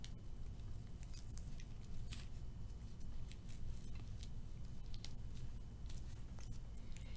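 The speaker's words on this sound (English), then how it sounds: "I'm going to take a little piece of tape for each one of his ears" Strips of tape handled and pressed down while crafting a ladybug at home, giving soft patters, faint crinkles and scattered short snips over a steady low background hum, with no talking.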